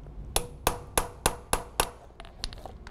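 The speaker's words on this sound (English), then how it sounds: "This is nothing more than an impact screwdriver." A hammer strikes an impact screwdriver to snug a boat outboard gearcase plug: six sharp, evenly spaced metallic clanks, close and loud, followed by a few softer taps.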